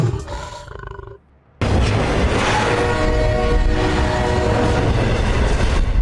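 A train roaring steadily past a railway station platform at Jaipur Railway Station, loud and continuous with a rumbling rattle, after a brief quieter stretch with a horn-like tone and a sudden near-silent gap.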